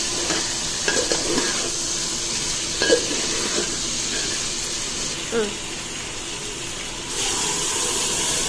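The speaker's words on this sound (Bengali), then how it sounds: "আর একটু চিকেনটাকে আমি ভেজে নেব।" Chicken frying in a pan for chicken yakhni pulao, a steady hiss of sizzling oil with occasional scrapes and knocks from stirring, fairly close and continuous.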